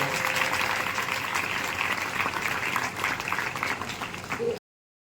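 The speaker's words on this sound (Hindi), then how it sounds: "तो एक बार जोर से ताली इस प्रयास को लेके" Audience applause at the closing ceremony of a school summer camp, a dense continuous patter of many clapping hands lasting several seconds at even loudness before cutting off abruptly.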